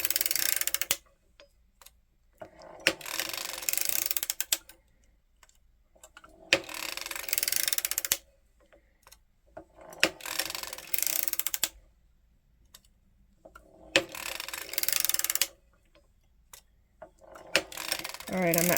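A circular sock knitting machine is cranked in repeated bursts of rapid clicking and ratcheting, each lasting a second or two, separated by short quiet pauses, close by.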